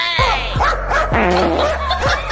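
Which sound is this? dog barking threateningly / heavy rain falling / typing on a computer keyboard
dog barking threateningly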